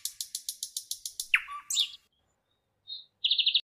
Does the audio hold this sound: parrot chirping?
yes